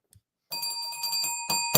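Bright bell chimes used as a sound effect ring out after a short silence, with sustained tonal ringing and a second sharper strike near the end, loud and alone.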